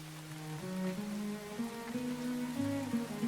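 Rain falls steadily in the video game Farthest Frontier, a soft continuous patter beneath sustained tonal music that carries on throughout.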